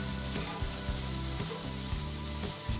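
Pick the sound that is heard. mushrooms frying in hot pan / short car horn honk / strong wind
mushrooms frying in hot pan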